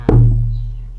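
One open, resonant hand stroke on the center of a Thai long drum head, the 'bom' stroke, gives a deep boom that rings and slowly decays.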